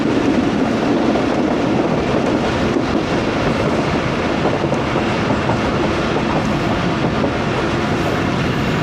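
Pakistani 14DN Awam Express passenger train rolling into a railway station, with steady loud rumble and continuous wheel clatter on the rails throughout, no voices.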